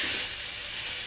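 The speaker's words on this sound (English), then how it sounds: "you're now going to mix all of this up" Picadillo with adobo is stirred in a hot pan, giving a steady loud sizzle and frying hiss throughout the short moment.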